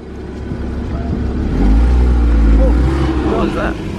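A car drives off fast with its engine revving, a loud rising roar that swells midway and stays strong to the end, with voices in the background.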